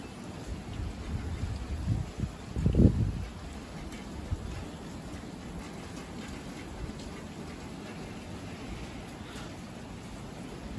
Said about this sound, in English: The wind is giving me shivers.